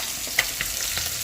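Fish fries in a pan, giving a steady bright sizzle with a few small pops and crackles, close and without talk.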